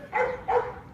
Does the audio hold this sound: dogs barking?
yes